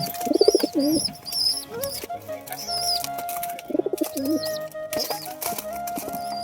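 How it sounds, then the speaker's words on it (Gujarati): Black pigeons cooing in short bursts, along with wing flaps and some background noise; no talking. "કેવા આપણા કબૂતર છે"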